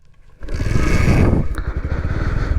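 Bajaj Pulsar 150 motorcycle engine starting up and revving under load, a loud, steady, throbbing exhaust note with a rising whine, close by on a road.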